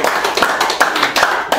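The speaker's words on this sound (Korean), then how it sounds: "박수" A small lecture audience at a Saturday talk claps in unison, a few sharp rhythmic beats spaced evenly, close and fairly loud.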